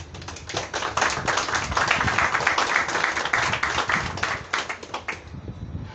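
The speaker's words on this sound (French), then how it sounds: "Je vous demande de vous applaudir." An audience applauds at a Gabonese political declaration, a close, loud burst of many hands clapping in a dense, crackling stream that stays strong for several seconds before tapering slightly.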